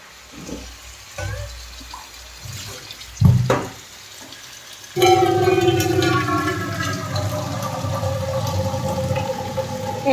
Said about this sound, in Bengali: গরম জলে এই দেখো গরম জল রেডি করছি।